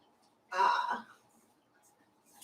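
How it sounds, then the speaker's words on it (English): A single short, harsh cough or throat clear sounds close by in a quiet room during a community meeting, then fades into faint background. "there's some loud coughing right next to you"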